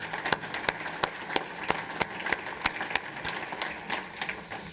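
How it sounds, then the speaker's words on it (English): A round of applause at a water summit program, distant scattered clapping from an audience, steady and moderate, with a few louder individual claps standing out. "Let's give them another round of applause."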